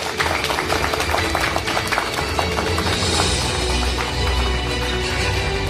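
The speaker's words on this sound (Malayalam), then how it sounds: "ഒരു നല്ല കൈയടി കൊടുക്കാം" Audience applause at an award ceremony where mementos are being handed out: dense, sustained clapping from a crowd that fills the whole stretch at steady volume.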